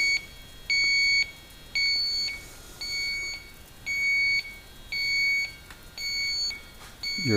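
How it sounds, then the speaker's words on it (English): A Yellow Jacket AccuProbe leak detector, used on a Sub-Zero 424 wine cooler sealed system, gives a loud, steady series of about seven evenly spaced electronic beeps, each lasting about half a second, with nobody talking. "So let's get our leak detector and see if that helps. Okay, I'm using this AccuProbe from Yellow Jacket."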